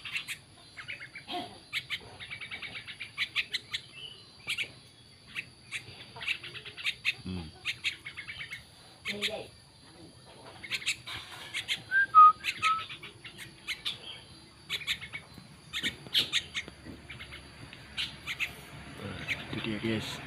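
Several birds perched in a mango tree chirping and whistling in short scattered calls, moderately close, with people talking at times and outdoor background noise.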